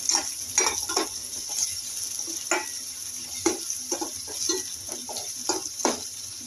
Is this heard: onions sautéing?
yes